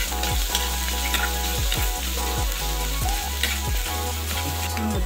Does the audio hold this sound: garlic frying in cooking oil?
yes